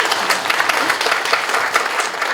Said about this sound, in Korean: 응원의 박수 한번 보내주시겠어요?